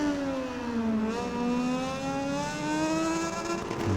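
A motorcycle engine in MotoGP 19 held at the rev limiter, a steady high whine with a slight pitch wobble, loud and close with no talk.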